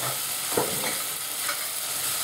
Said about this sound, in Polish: Dalej gotujemy dość agresywnie, się nie przejmujemy